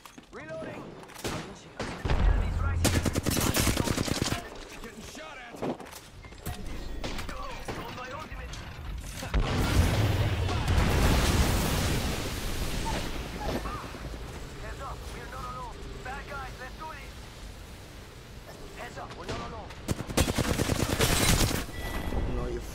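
Gunfire in the video game Apex Legends, with bursts of automatic fire coming in several loud clusters that are mixed with game sounds and with players talking.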